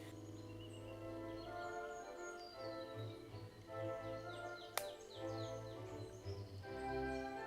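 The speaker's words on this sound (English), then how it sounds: "just listening to the bird song" Birds sing beside the Thames and Severn Canal in a quiet rural spot, with several faint chirps and warbling phrases spread across a steady low background hum and a single sharp click partway through.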